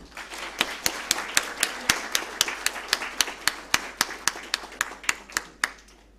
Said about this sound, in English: Can we have some applause, please?